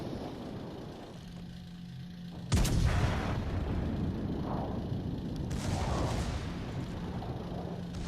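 Secondary guns on a warship in the World of Warships naval game fire in two heavy booming blasts a few seconds apart, each rolling out over a steady rumbling battle drone, with no talk.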